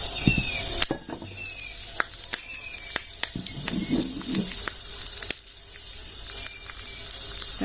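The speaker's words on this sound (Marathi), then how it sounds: "बघा किती छान असं मस्तपैकी कडकडीत अशी फोडणी झालेली आहे" Mustard seeds, chillies and curry leaves sizzle and crackle in hot oil for a tadka, a steady close hiss broken by sharp pops and spits, with no voices.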